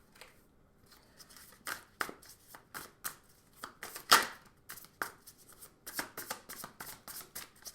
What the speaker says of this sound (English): So I'm going to pull a few more cards just to clarify a bit more.